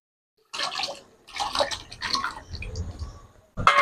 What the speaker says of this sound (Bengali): এবারে পানি সমেত আলুটা আমি কড়াইয়ে দিয়ে দেবো।